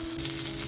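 Garlic and green chillies sizzle in hot oil in a preheated pan, a steady, close crackling hiss through the whole brief moment, with no voices.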